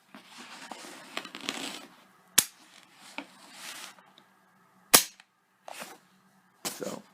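A 1916 Spanish Mauser rifle in 7x57 fires two sharp, loud, separate reports several seconds apart, with quieter handling noises and rustling between them.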